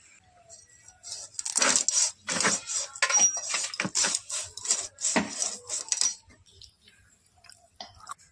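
Knife cutting through a large boal fish, a string of wet, scraping chops and slices in an uneven rhythm, close and fairly loud, then fading to quiet near the end.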